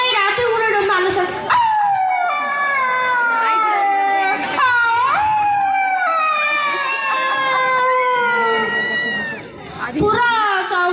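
A voice mimics a wolf howling at night at a school annual day mimicry performance, a long, rising and falling howl drawn out over several seconds, loud and close, with a brief break midway.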